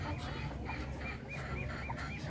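Newly hatched ducklings and chicks on a native chicken farm give rapid, high-pitched peeping calls in a quick repeating series, close and fairly clear over a low background hum.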